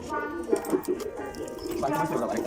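Pigeons cooing close by in a loft, with soft repeated coos across the clip under someone talking.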